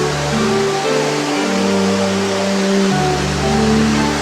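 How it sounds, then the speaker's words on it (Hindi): Sajla waterfall, a small cascade pouring down a rocky slope, gives a steady, loud, broadband rush of falling water with a low tonal hum running underneath throughout. "सजला झरना अपने आकार में बहुत बड़ा नहीं, किंतु सौंदर्य में किसी भी बड़े झरने से कम नहीं।"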